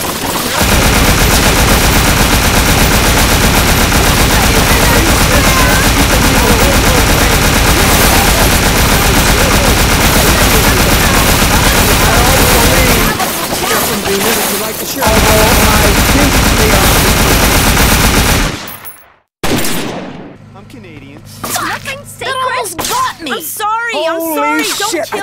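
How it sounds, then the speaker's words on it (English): Dense, continuous gunfire from the Scarface: The World is Yours video game rattles loudly for many seconds and then cuts off abruptly, after which game character voices talk over quieter ambience. "I'm being shot at."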